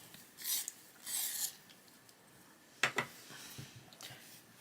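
A colouring pencil is sharpened with a few short, faint scraping grinds of blade on wood, followed by soft clicks and light handling noises close by.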